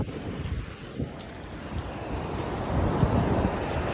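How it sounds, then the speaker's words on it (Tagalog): Strong sea waves surge and crash continuously with heavy wind buffeting the microphone, a loud steady roar with no voices. "medyo malakas lang yung alon"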